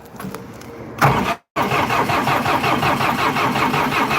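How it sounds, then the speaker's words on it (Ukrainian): A 50 hp tractor engine cranks without its glow plug in winter: a loud, steady, rhythmic churning with a brief dropout partway through, then the cranking and engine noise continue alone. "50 кінських сил, без свічечки запускаємо."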